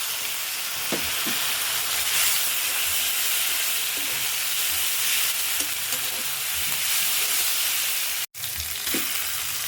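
Onions fry in a pan with a steady, close sizzle and hiss, broken by a few soft stirring clinks and one brief cut near the end.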